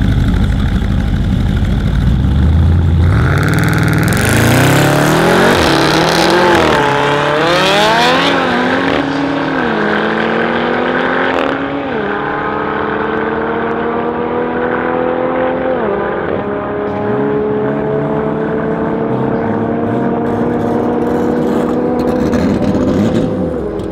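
A 710 hp Jeep Grand Cherokee Trackhawk SUV roars from idle into hard acceleration, the engine climbing in pitch through several gear shifts and then holding a loud, sustained drone up close.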